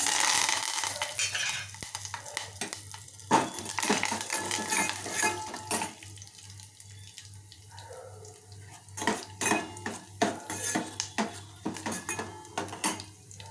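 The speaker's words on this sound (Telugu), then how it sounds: "ఇప్పుడు వచ్చేసి పోపులు అన్నీ పెట్టేసి" Whole tempering spices sizzle in a spoonful of hot oil for a Nellore-style red chilli condiment, crackling close up while a utensil stirs and scrapes against the pan, with no talking.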